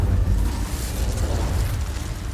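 Incendio fire spell blast in Hogwarts Legacy, a loud roaring, crackling burst of flame that starts sharply and sustains as a dense fiery rush throughout.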